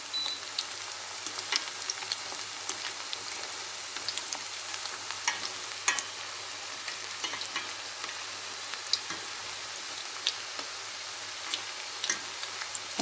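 Batter made with self-raising flour fries in hot oil as a snack, giving a steady close sizzle with scattered crackles and pops throughout.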